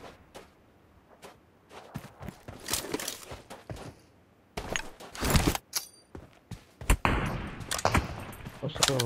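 Enemy gunfire in PUBG Mobile: sharp, scattered shots, some single and some in quick bursts, spread unevenly over quieter stretches, with a loud cluster near the middle and end.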